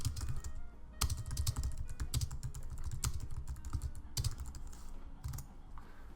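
Fingers tap steadily on a computer keyboard at a design workstation, producing close, crisp key clicks in irregular bursts with a few heavier strokes.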